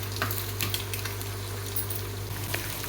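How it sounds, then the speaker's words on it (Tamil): Onions sauté in a pan with a moderate, steady sizzle and a few light stirring clicks over a low, constant hum, heard up close with no voices. "நல்லா வதங்கட்டும் ஆனியன்"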